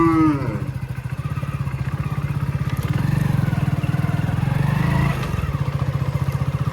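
A motorcycle engine runs steadily and close by as the bike is ridden at sunset, its low throbbing drone rising and falling slightly with a brief dip near the end, with no speech over it.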